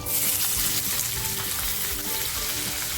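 Curry leaves and onion fry loudly in hot oil, giving a dense, close, crackling sizzle that holds steady with no voices.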